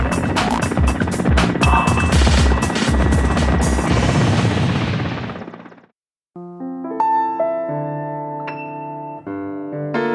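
A loud, dense mechanical roar with rapid rotor-like thumping from a Mi-8 military transport helicopter for several seconds, cutting to silence, followed by sustained tonal music.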